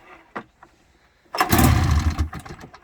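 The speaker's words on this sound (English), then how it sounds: "We're gonna see if it'll start." A 2000 Polaris 700 snowmobile engine is started: a few faint clicks and knocks come first, then the engine catches with a sudden loud, close roar that settles into an uneven, revving idle.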